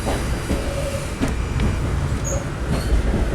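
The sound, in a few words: Amtrak train running on rails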